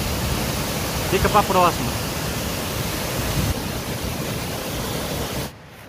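Steady rushing roar of water at the Cachoeira das Bromélias waterfall on the Três Barras river, a constant broadband wash with a brief voice speaking over it before it cuts out near the end.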